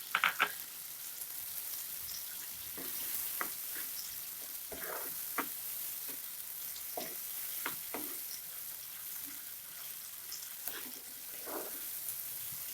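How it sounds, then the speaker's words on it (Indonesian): Chili and torch ginger fry in a pan over medium heat, giving a steady close sizzle with scattered pops and crackles and a few stirring scrapes, heard without talking. "Kita menggoreng dengan api sedang saja, sehingga cabainya tidak kering nanti."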